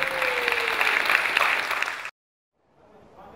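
Applause from the audience at a young filmmakers' film gala, greeting third-place award winners: dense, sustained clapping for about two seconds that cuts off abruptly, followed by faint murmuring.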